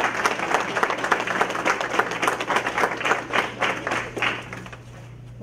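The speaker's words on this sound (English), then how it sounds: "Let's give them one more round of applause for everything they do for us here." A room at a county school board meeting fills with sustained applause for teachers, dense overlapping claps at a steady level that thin out and fade toward the end, with a low hum underneath.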